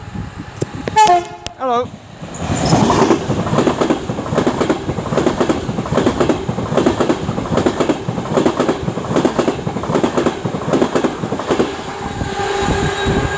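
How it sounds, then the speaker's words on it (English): An Avanti West Coast train on the London Euston to Liverpool Lime Street route approaches a station, horn tooting briefly at first, then a steady rhythmic clatter of wheels on rails, close and loud, with a short spoken greeting near the start. "now approaching will be 39126 for Avanti West Coast, working 1 Foxtrot 18 from London Euston to Liverpool Lime Street"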